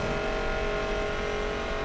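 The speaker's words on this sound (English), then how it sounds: "this car absolutely screams" A five-speed racing car in a video game holds a loud, steady, high-pitched engine scream at near-constant revs, with no gear change across the short stretch.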